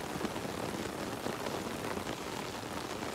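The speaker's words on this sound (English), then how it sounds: "I haven't seen it rain this hard in a long time." Heavy rain pours down steadily outside near a driveway, a dense, continuous hiss of drops drumming on surfaces with no let-up and no voices.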